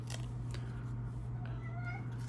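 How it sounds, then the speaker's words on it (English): A house cat gives a few soft, short meows in the second half, faint beneath a steady low electrical hum that runs throughout. "here comes my cat. You'll be able to hear him meowing."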